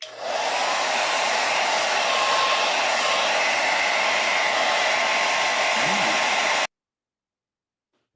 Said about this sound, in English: That's a good dryer.